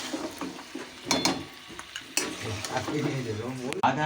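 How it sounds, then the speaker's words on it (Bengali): Braised meat curry being stirred in a pan, with scraping spoon strokes and a steady sizzle, then bubbling and clinks as liquid is added. "আমার মাংসটা পুরোপুরি কষানো হয়ে গেছে এবার একটু হালকা জল দেবো"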